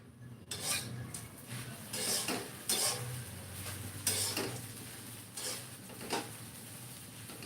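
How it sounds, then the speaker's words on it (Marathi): Sabudana khichdi is stirred in a pan, making a quiet run of scraping, clinking spoon strokes about once a second over a faint sizzle, with no voices. "आपण परत एक वेळेस छान मिक्स करून घेऊयात"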